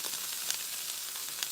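Food sizzling steadily in a pan while dinner cooks at home, a constant close hiss with faint pops and no voices.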